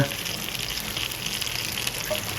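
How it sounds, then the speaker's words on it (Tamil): Chicken sizzles on a tawa over a low flame, a dense steady frying hiss with soft crackles running evenly throughout, close and moderately loud, with no talking. "சிம்லேயே வச்சு ஸ்லோ ஃப்ளேமில் வச்சு இந்த சிக்கனை வந்து ஃப்ரை பண்ணுங்க"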